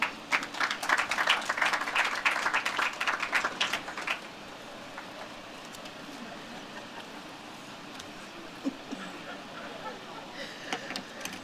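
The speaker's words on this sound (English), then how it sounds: "another big round of applause for Della Manley" Audience applause at a floral tribute for Michael Manley, a dense burst of many hands clapping for about four seconds before dropping to quiet room tone.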